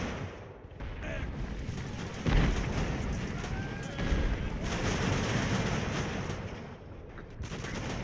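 Cannon fire in the naval game Ultimate Admiral: Age of Sail, set in the 18th century, with dense, rumbling booms and a louder blast partway through over continuous battle din.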